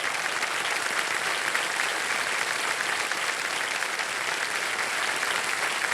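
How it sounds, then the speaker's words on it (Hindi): Loud, continuous applause from a studio audience for contestants on a televised quiz show, a dense even wash of clapping with no talk over it. "जोरदार तालियां एक बार हमारे जितने भी कंटेस्टेंट हैं उनके लिए"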